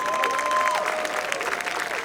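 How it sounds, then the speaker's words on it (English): Steady applause from a crowd, dense and continuous clapping throughout, with a faint tone and murmur beneath it. "Let's give them a big round of applause."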